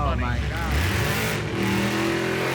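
A drag race car accelerates with a loud, rising engine roar that climbs, breaks off briefly and picks up again in a lower drone, under excited talk.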